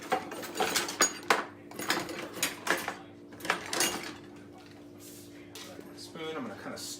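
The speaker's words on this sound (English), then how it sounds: "Spoon, I'm gonna kind of stir it up." A spoon scrapes and clinks inside a Ninja Foodi pot while stirring chicken and rice, irregular metallic knocks and scrapes close up, with a faint hum underneath.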